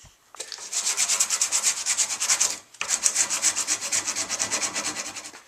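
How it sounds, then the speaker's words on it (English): A guitar nut is rubbed on 80 grit sandpaper wrapped around a small hardwood block, making loud, close, rhythmic back-and-forth rasping strokes in two runs with a brief pause between. "I'm going to sand down the nut to the general contour of its final shape"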